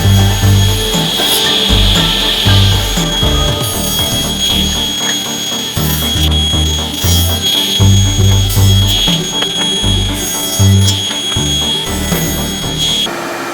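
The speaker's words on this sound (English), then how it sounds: "Never shut off the vac until the blade stops. That's how you can use your table saw" A table saw cuts wood while a shop vacuum runs, giving a loud steady whine and roar with repeated pulsing cuts through the boards during a Christmas tree build.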